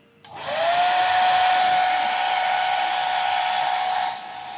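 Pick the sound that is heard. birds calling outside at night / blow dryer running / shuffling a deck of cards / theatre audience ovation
blow dryer running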